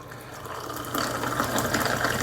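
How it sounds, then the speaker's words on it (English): Soda water pours into a whiskey-and-gin cocktail glass with a steady, close fizzing rush that swells slightly louder partway through and keeps going to the end. "just top it off with some soda water of your choice"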